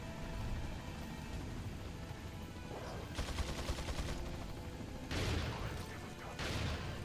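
Bursts of gunfire from Resident Evil 4 on Professional difficulty, two or three short volleys of rapid shots over a steady game background hum, fairly loud and without talk.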